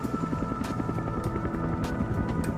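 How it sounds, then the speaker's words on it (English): A military helicopter's rotor produces a steady low, throbbing drone with rhythmic blade pulses, loud and continuous throughout. "Rotor noise, which can warn an enemy of a helicopter's approach"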